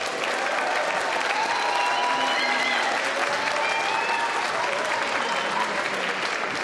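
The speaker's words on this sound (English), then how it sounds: "Let's give them a bit of a warm-up round of applause" A live audience at the Beaker Street 2019 science debate gives a warm-up round of applause, a dense, continuous, loud clapping from a large crowd with faint voices mixed in.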